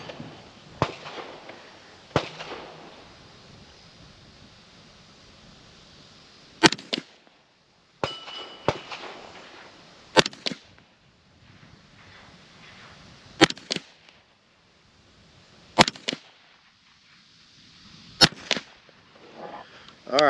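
A rifle fires 300 Blackout and 5.56 rounds from a rest bag, about nine sharp cracks spaced irregularly a few seconds apart, each followed by a brief ringing decay.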